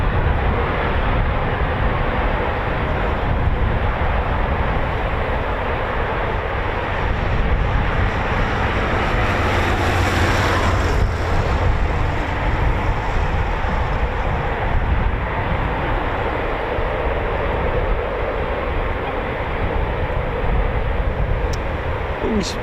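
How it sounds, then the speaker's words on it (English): Eurofighter Typhoon FGR4 jets with EJ200 engines at RAF Coningsby QRA station, a steady broadband engine roar spinning up and holding through the whole stretch, loud and continuous with a faint rise in the middle and talk underneath. "Couple more startups. You can hear the beautiful EJ200 engines."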